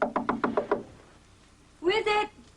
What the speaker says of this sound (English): she gets out of the shower, enrobed, and answers a persistent knock on her door